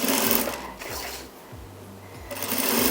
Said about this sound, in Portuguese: Faço a costura dele aqui primeiro